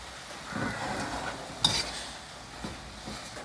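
Red ant eggs dry-roasting in a pan, a quiet background sizzle broken by several close scraping stirs and one sharp clack of the utensil against the pan.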